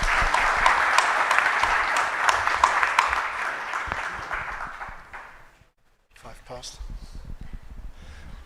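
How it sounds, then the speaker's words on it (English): A conference audience applauds its panelists at a plenary session. Steady clapping swells, fades out into a brief silence, and is followed by scattered noise and talking. "I'd like to give an applause to our panelists."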